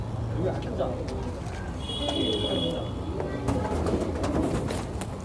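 Pigeons bred by a Haryana fancier in Sonipat coo in low, soft rolling calls beneath steady background noise, with people talking nearby.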